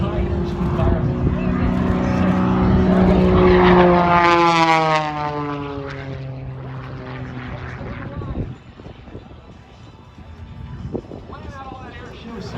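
A propeller airplane flying at an airshow, a loud droning engine with a pitch that slides downward as the plane passes close by and fades, then distant crowd and ambient noise, with people talking nearby.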